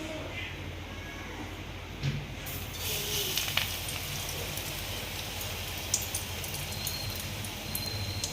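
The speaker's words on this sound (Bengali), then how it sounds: "গ্যাসটা আস্তে করে একটু হালকা হালকা করে ভাজলাম" Slices of pointed gourd (potol) fry over a low gas flame, giving a steady soft crackling hiss, like light rain, that runs through the whole stretch with a few small pops.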